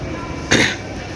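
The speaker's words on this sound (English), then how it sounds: "Everybody's coughing though." A single short cough bursts out from someone in a public commuter setting, brief and moderately loud over a low background murmur.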